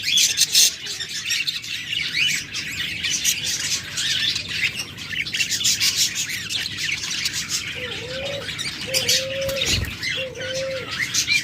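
A pair of rainbow budgerigars keeps up a busy stream of high chirps and warbling chatter, with a few low coos from other birds nearby toward the end.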